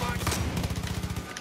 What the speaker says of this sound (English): Oh my god, shotgun.